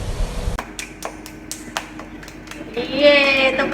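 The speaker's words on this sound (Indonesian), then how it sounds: "Tepuk tangan." Several sharp hand claps in a loose rhythm, close and distinct against a quiet background, followed by voices talking.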